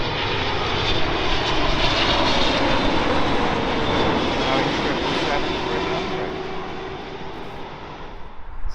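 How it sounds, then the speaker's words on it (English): A LATAM Boeing 777-300 arriving from Sao Paulo at Heathrow passes with a heavy, continuous engine roar that stays strong before gradually fading over the last few seconds, with possible faint voices beneath. "777-300, and that has come all the way from Sao Paulo."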